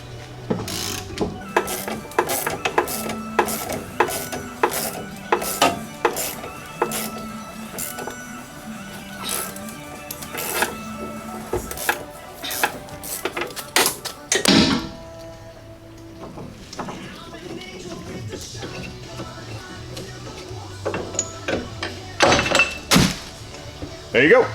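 A ball joint is pressed into a C-frame press, giving repeated ratcheting clicks and heavy metallic thunks in an uneven rhythm, close and fairly loud, with a voice at times.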